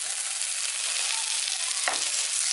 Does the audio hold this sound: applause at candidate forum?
no